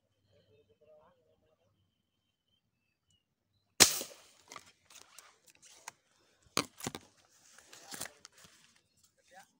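A single sharp snap of a spear gun fired while spearfishing tilapia at a lake, followed by scattered clicks, splashes and two more sharp cracks, all close and loud against near silence.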